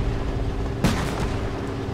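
A StuG III assault gun fires a Panzergranate 39 round in the game Post Scriptum: one sharp, loud cannon blast midway, then a short decaying tail over a steady engine hum.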